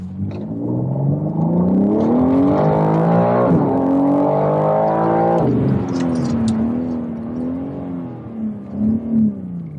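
A BMW M3 Competition engine revs up loudly through the gears, pitch climbing and dropping with each shift, then settling into a wavering idle.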